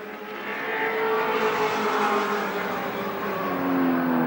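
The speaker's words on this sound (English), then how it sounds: "the Peter Jackson Nissan Skyline, getting closer all the time to Peter Brock." Nissan Skyline touring car racing at Wanneroo in 1986, engine note swelling as it approaches and accelerates, a sustained loud roar with shifting pitch and no talking.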